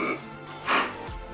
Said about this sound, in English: Okay, now act like you're opening a squeaky door.